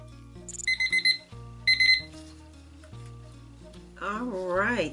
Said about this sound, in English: And our timer is set for 5 minutes.